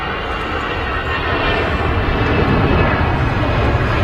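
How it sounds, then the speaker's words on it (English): An easyJet airliner on its takeoff roll from Manchester bound for Bordeaux, a loud, close, rumbling engine roar that builds in strength over a few seconds, with no talking. "EasyJet on the roll to Bordeaux"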